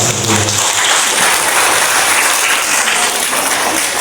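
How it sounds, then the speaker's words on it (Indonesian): An audience breaks into loud, sustained applause at a fire department outing class, dense clapping that holds steady throughout. "Tepuk tangan dulu untuk beliau"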